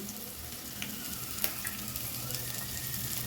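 Green chillies, curry leaves, cumin and white sesame seeds frying in oil for stuffed ridge gourd, a steady close sizzle with occasional small pops and stirring, no talk.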